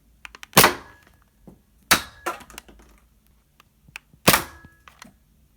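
A Nerf Holdout blaster fires foam darts with no scope fitted, giving three sharp, loud thunking shots spaced about a second and a half apart, each with a short rattling tail and quiet handling clicks between.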